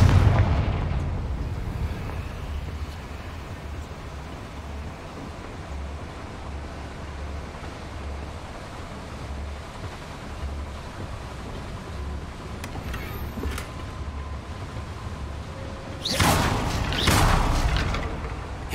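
Confringo spell explosions in Hogwarts Legacy, a low rumbling bed with a heavy blast at the start and another loud booming burst near the end, no talk.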